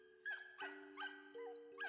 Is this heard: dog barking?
yes